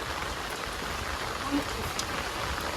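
Rain falls on a monsoon-soaked village hut as a soft, continuous hiss, with a sharp knock or clatter nearby right at the end.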